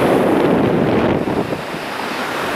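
Strong wind buffets the microphone at an ocean beach in Oaxaca, with steady surf roaring behind it in a loud, continuous wash that eases slightly partway through.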